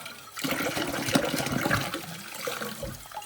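Water runs and splashes from a tap into a kitchen sink, a steady gushing stream nearby with no voices.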